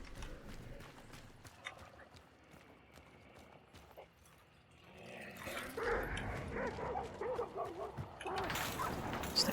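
Several dogs bark in a shooter video game, faint and somewhat distant, mixed with footsteps and other game noise that gets busier and louder toward the end.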